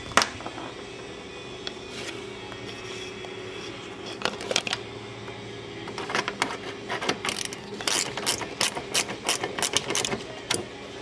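Ratchet with a 10mm socket removing the fan shroud bolts on a 1998 Dodge Ram 1500 with a 5.9 engine: a faint background hum, then bursts of quick, close mechanical clicking in irregular runs through the second half.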